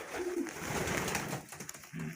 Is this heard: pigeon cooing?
yes